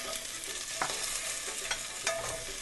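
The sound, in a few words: stirring and frying black pepper chicken in a pan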